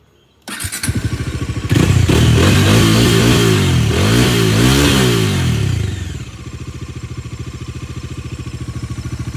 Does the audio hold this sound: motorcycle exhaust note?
yes